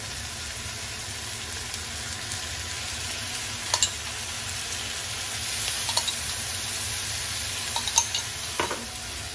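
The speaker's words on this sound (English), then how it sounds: "we're going to let that brown up and sear for a little bit" Garlic and paella ingredients brown and sear in a stovetop pan with a steady, even sizzle, broken by a few faint scrapes and clinks of stirring.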